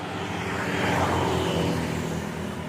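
Steady roar of highway traffic with cars passing close by, a continuous loud wash of tyre and engine noise that swells slightly midway without letting up.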